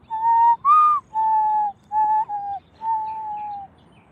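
A man whistles an imitation of a mourning dove's call, five sustained, slightly sliding notes in a slow, mournful phrase, clear and close with no talking.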